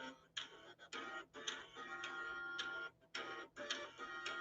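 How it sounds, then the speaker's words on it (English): Recording of an old dot matrix printer and many floppy drives, rapid mechanical ticking and grinding in repeated bursts with short pauses between, close and moderately loud. "It's like an old dot matrix printer and like 80 floppy drives and stuff like that, just making a bunch of noise"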